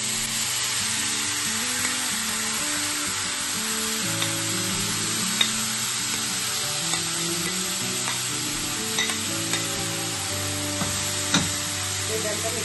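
Beetroot and grated coconut stir-fried in a pan for a beetroot vepudu, giving a steady close sizzle with scraping spatula strokes and a few sharp clinks against the pan, running throughout without talk.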